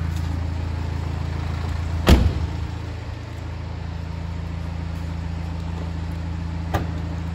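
A Mini Cooper SD 2.0 diesel idles steadily at close range, a low even hum broken by a sharp door thud and a later faint click.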